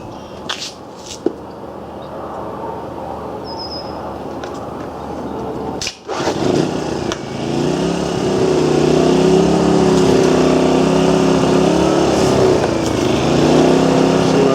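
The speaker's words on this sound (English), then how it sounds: "I got a little generator over here I'll fire up" A small portable generator starting up. A few clicks and pulls come first, then the engine catches and settles into a loud, steady running drone that fills the rest of the clip.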